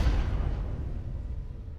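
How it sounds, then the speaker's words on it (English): Planetary impact sound effect from a Ray Volpe Splice sample pack for dubstep production: a heavy, loud low-frequency boom that rumbles and slowly decays over about two seconds, alone. "And then I also have this planetary impact from Ray Volpe's Splice Pack."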